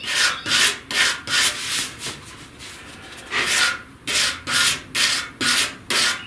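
Repeated rhythmic sanding strokes on body filler over a patched 1969 C10 front fender, about a dozen rasping back-and-forth passes, close and fairly loud, with a brief pause in the middle.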